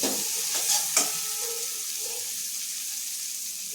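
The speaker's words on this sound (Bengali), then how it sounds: "বেটে রাখা মশলাটা দিয়ে ভালো করে কষিয়ে নেব" Ground mustard and poppy seed paste for a Bengali parshe fish curry fries in a pan, giving a soft steady hiss with a few brief scrapes of stirring near the start, then a quieter sizzle, no voices.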